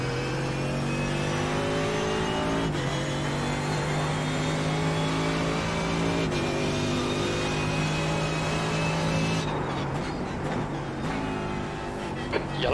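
A Mercedes-AMG GT3 race car engine at Watkins Glen in the iRacing video game, a steady loud drone with rising revs and gear changes, alone and continuous near the end.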